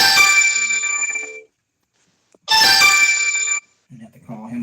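A phone ringtone plays in two loud bursts separated by a short silence during a call-in legal Q&A show, followed by brief speech.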